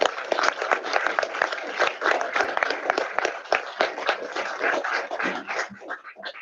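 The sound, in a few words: applause in council chamber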